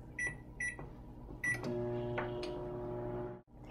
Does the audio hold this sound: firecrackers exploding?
no